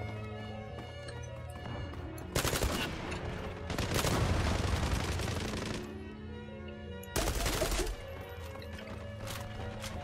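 Bursts of gunfire from the Zula online shooter, set in a wedding-hall firefight, come in two loud, dense volleys separated by quieter stretches with a low background hum.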